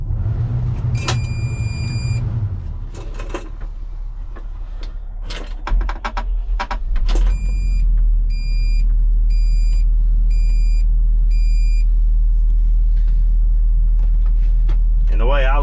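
Volvo excavator starting up: a door clunk and warning beeps, then the diesel engine catches and settles into a loud, steady low rumble, heard up close from the cab.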